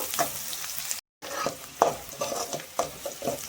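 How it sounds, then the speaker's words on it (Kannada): Chopped onions fry in a pan for a potato samosa filling, a soft continuous sizzle broken by repeated spatula stirs and scrapes, close and moderately quiet, with a brief gap of silence early on. "ಈರುಳ್ಳಿ ಹಸಿ ವಾಸನೆ ಹೋಗೋವರೆಗೂ ಇದನ್ನು ಫ್ರೈ ಮಾಡ್ಕೋಬೇಕು"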